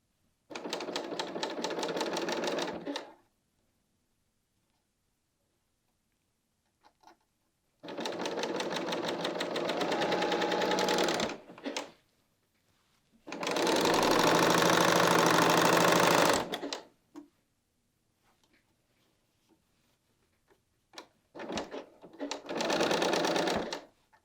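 A Bernina L 890 sewing machine stitches a knit dress seam in several bursts of steady, rapid running, with quiet pauses between them as the fabric is repositioned.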